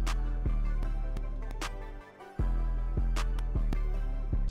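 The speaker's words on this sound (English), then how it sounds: "and then you add the clap to it, like just a normal basic clap." A simple beat with a deep, sustained bass and a sharp clap on a steady rhythm, briefly dropping out midway before resuming.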